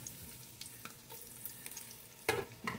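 Ginger hits a frying pan with a faint sizzle, and soft stirring scrapes and clinks rise out of the low crackle before a sharper burst near the end.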